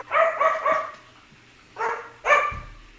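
Excited dogs bark in quick bursts: a run of three sharp barks, a pause, then two more close barks, loud and near with no talking.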